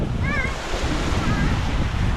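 Sea waves wash steadily at a rocky beach where children are swimming, a continuous loud surf with wind buffeting the microphone and brief faint voices in the background.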